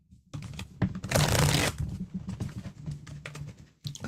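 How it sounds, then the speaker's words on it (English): Tarot cards being shuffled by hand give a dense, close riffling patter, with one loud burst of fast flutter and then lighter, irregular card slaps and rustles. "I'll shuffle them up."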